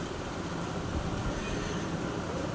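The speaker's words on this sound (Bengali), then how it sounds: "এখানে হাওড়া ময়দানের এখানে চলে এলো ট্রেন" A dense, steady rumble of a train arriving at Howrah Maidan, loud and continuous with no clear breaks.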